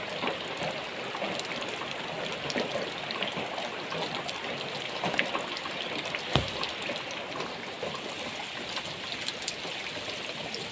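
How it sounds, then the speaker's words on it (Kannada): Steady, dense rain patters continuously on surfaces nearby, a constant hiss with occasional louder drips. "ಇಲ್ಲಿ ಮಳೆ ಬೀಳುವ ಚಂದ ನೋಡಿ ಅಂತೆ"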